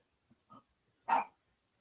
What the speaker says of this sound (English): He's just barking to say hi, I think.